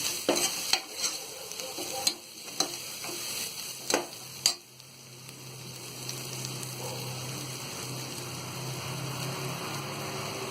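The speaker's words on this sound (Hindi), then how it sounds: "ये अदरक लहसुन का पेस्ट भी भुन गया है, अब हम इसमें ये हल्दी पाउडर डाल देंगे। हल्दी पाउडर को भी थोड़ा चला लेंगे।" Turmeric powder is stirred into frying ginger-garlic paste for sambar, with several sharp spoon clacks against the pan over the first few seconds, then a steady low sizzle continues alone.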